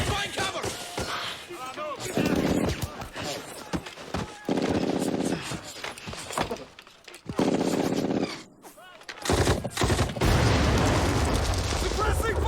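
Gunfire in a video game battle laying down suppressing fire, with dense bursts of rapid shots and booming blasts between stretches of voices shouting over the fight.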